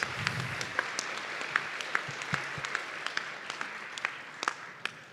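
An audience at a championship programming contest in Warsaw applauds its volunteers, a steady sustained wash of clapping with a few sharper individual claps standing out.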